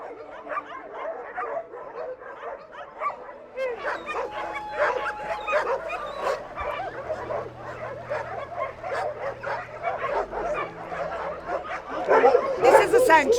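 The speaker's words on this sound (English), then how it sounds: "We have 500 dogs now in the sanctuary, which is crazy." Many dogs bark, yip and whimper at a large dog sanctuary in Morocco, a dense, continuous chorus of overlapping near and distant barks, with people chattering underneath.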